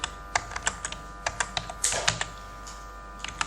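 Quick bursts of keystrokes on a computer keyboard while someone enters HTML image code, heard up close and clear with short uneven pauses between clusters of taps.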